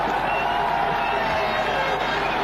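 Stadium crowd at a 1999 Pakistan versus Sri Lanka cricket match in Sharjah roars steadily after a third umpire's stumping decision, a dense sustained cheer filling the ground throughout.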